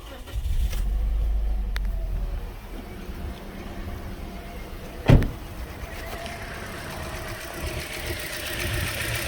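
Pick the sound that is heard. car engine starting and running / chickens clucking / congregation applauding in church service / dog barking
car engine starting and running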